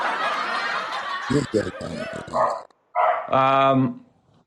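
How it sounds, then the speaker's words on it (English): A dog barks in a few short bursts close by, breaking into ongoing talk and laughter among people in a studio interview setting. "we're going to move on, even though the dog's barking"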